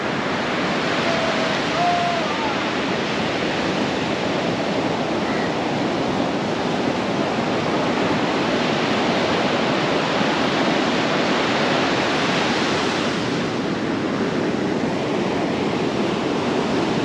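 Ocean waves wash steadily onto a beach on the Goa coast, a continuous broadband surf roar with gentle swells and some wind across the microphone, no talk.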